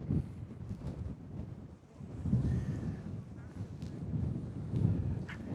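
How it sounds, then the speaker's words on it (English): Wind gusts across a hilltop by the Great Stone of Fourstones in Lancashire, a low, rumbling buffet on the microphone that swells and eases in waves throughout. "The wind's really getting up."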